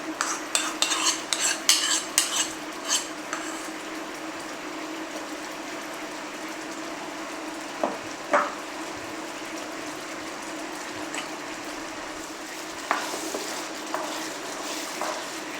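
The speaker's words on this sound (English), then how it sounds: "Now when you see your coconut cream get bubble hot" Coconut cream bubbling hot in a pan for Thai green curry, with a utensil stirring and scraping against the pan in irregular clinks over a steady sizzling hiss, close and fairly quiet.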